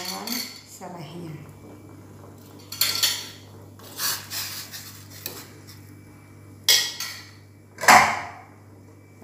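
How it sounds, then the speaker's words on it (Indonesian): Pork, smashed ginger and lemongrass go into a cooking pot of pigeon-pea and pork stew, with intermittent clatters and scrapes of utensils against the pot in several bursts over a low steady hum, no talking. "kita masukkan daging babinya bersamaan dengan jahe yang sudah digeprek dan serainya"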